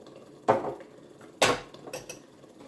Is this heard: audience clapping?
no